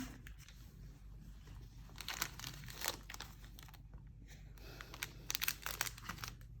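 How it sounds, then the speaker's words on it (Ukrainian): Thin plastic packet of an embroidery kit cut open and handled, giving soft crinkling and tearing rustles in irregular bursts, close and fairly quiet, with no talking. "Зараз ми його розріжемо і подивимося, що ж у нас тут."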